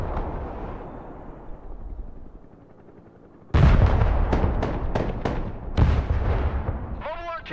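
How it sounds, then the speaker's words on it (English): Artillery guns firing in the Broken Arrow war game, opening with one loud sudden blast followed by a rapid series of sharp, close reports and rumble, after a stretch of low background noise. "Artillery ready to fire"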